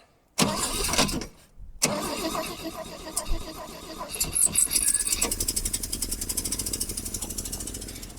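A 30-year-dormant AMC Rambler engine cranks and fires, a loud close rough roar with a brief dropout, then settling into a rapid uneven idle that slowly fades.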